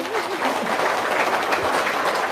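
A seated audience claps hands in a thick, steady wash of applause, with a voice briefly heard at the start.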